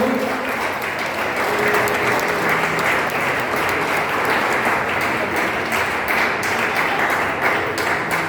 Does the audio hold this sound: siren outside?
no